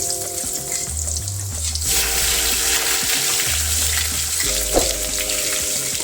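Steady frying sizzle of garlic and ginger in a hot pan, loud and continuous, with a few stirring scrapes and clinks partway through; no talking.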